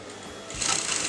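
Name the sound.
sewing machine stitching a kurta neckline slit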